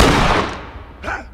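Gunfire in The Last Of Us, a loud close blast decaying quickly, followed by a second sharp shot about a second later.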